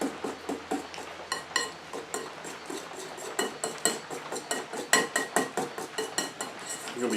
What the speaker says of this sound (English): So now we just want to mix that all together.